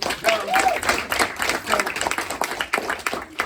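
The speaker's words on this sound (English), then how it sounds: "Give me a round of applause." In a conference room at a community safety meeting, a smaller group claps unevenly in scattered, rippling bursts, with some voices mixed in among the claps.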